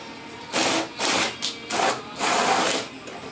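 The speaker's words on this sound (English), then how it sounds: "I'll show you how I'm drilling these out." A power drill whirs in repeated short bursts while drilling out fasteners on the dashboard of a 2001 Dodge Ram, roughly five pulses of grinding motor noise separated by brief pauses, close and fairly loud.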